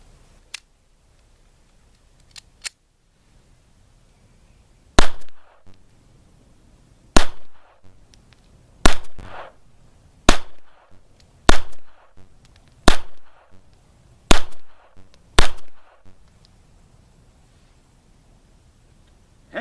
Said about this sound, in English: we're going to put 8 shots into our zombie down there, see what kind of hits we get with this German police classic